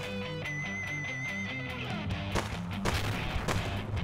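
Rapid bursts of gunfire ring out in the Dead Pixels retro zombie game over its looping chiptune music, with sharp repeated shots growing denser toward the end.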